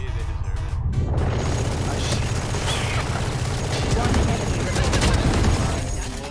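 Sustained automatic fire from an Odin machine gun in VALORANT, a dense, loud rattle of rapid shots running nearly unbroken through the whole stretch.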